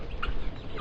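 A chicken clucks softly on a farm in a few short, close calls over steady low background noise.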